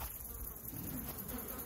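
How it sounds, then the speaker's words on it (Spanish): Flies buzzing steadily and close around a horse at a riding stable, a continuous droning hum with no talk. "mirad las moscas"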